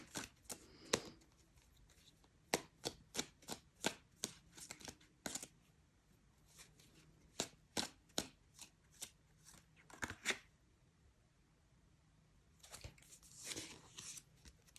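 Tarot cards being shuffled and pulled in a quiet room: a long string of crisp, close card snaps and riffles in irregular bursts, with a softer shuffling flurry near the end.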